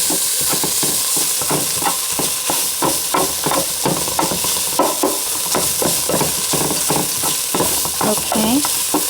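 Meat sauce with cayenne pepper frying in a pan for spaghetti, a loud steady sizzle broken by repeated rhythmic scraping and clacking of a utensil stirring, with no talking.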